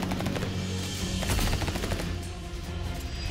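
Sniper and other gunfire in the Roblox game Rivals, a dense continuous barrage of loud game shots and blasts with no talking.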